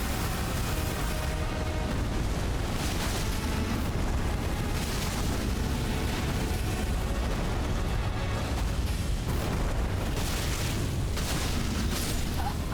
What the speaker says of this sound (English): There goes a rupturing, and the mortar bombardment has begun.